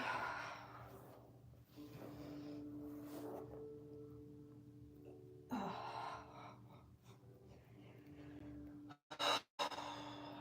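Slow, audible breaths in and out during a morning yoga practice, close and soft, long airy exhales with a quick sharper inhale near the end, over a faint low background hum.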